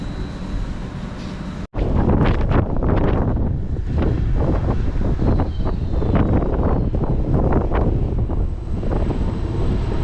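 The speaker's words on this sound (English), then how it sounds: "it's still very windy, so you might not hear me all too well" Heavy wind buffets the microphone in continuous rumbling gusts, a loud roar that briefly cuts out once early on before blasting back.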